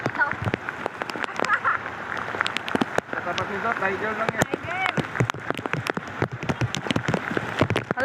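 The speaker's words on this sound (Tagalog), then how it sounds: "Grabe, umuulan. Lakas ng ulan." Heavy rain pours down steadily, a dense hiss of drops on surfaces throughout, while people talk and call out over it.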